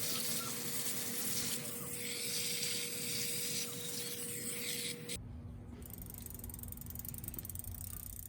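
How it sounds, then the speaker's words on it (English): Water spraying over the wheels of an old barn-find bicycle left sitting for more than 26 years, washing away cobwebs; a steady close hiss runs throughout, shifting in tone partway as the spray moves, with no talking. "Just making sure I'm washing off the wheels. Get all the cobwebs off."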